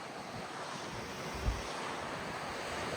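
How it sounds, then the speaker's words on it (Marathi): Sea waves wash steadily at Pirwadi beach in Uran, a continuous broadband surf roar with wind buffeting the microphone and one brief thump midway, with no voices. "फक्त एकदम मस्त पाण्याचा आवाज येतोय"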